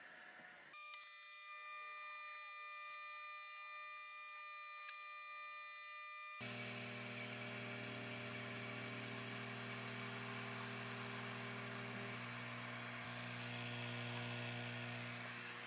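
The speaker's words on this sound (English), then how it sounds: "this laser will actually cut through this material with 1 pass at probably twice that speed" A Longer Ray5 laser cutter works through 1/4-inch hard maple, giving a steady electric buzz and whine. A louder, fuller drone with fan-like hiss kicks in partway through and runs on continuously.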